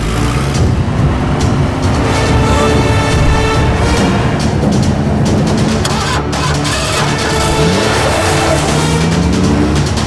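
A car is driven fast in a tense chase from an action film, its engine roaring and revving loudly and continuously with tire squeals and skids, with a dense, busy soundtrack throughout and no speech.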